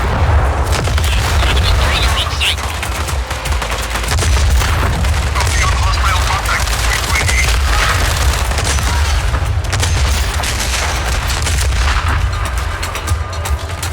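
Dense, continuous booming and gunfire roar from a Just Cause 4 battle, heavy cannon blasts layered with rattling shots and faint voices throughout.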